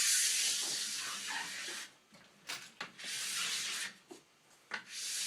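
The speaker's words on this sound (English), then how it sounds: "scrape all that wax that's standing on top of the base off" A sharp scraper draws excess wax off a ski base in repeated rough, rasping strokes, close and fairly loud, with brief pauses between passes.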